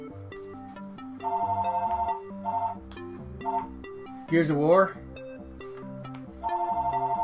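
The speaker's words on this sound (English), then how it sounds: "Sorry for the phone ringing." A telephone ringtone chirps in repeated melodic bursts at moderate volume beneath a voice as he reads off Xbox 360 game titles.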